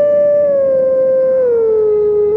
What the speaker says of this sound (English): Twilight Princess has the howl